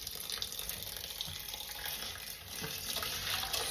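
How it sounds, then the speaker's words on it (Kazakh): Clean water running steadily into a pot, a continuous gentle splashing and trickling stream, faint and close, with no voices over it. "Енді таза су құямыз да отқа қоямыз осылай."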